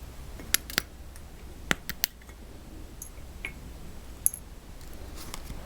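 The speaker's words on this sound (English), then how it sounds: "we're going to cut our own little pallions here" Small scissors snipping sheet solder into tiny pallions for jewelry soldering, a handful of sharp isolated clicks and snips spread unevenly across a quiet background, close and fairly faint.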